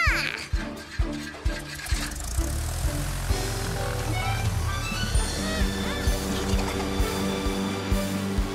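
A cartoon propeller airplane flies along with a steady, buzzing motor drone under light, bouncy background music, marked by a regular thumping rhythm that pulses about once a second.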